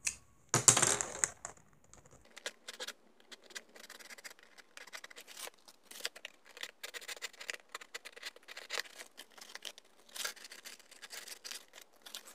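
Scissors snipping through paper to cut out a rough mask template for a papier-mâché mask, a sharp rustle first, then a steady run of small, close, crisp cuts and paper crinkles.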